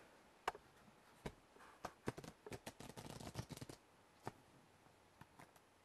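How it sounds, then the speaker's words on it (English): A deck of playing cards is shuffled by hand, giving scattered soft snaps that build into a quick, close, fairly quiet flurry of riffling clicks before tapering off. "now let me just quickly shuffle these the way I was showing you"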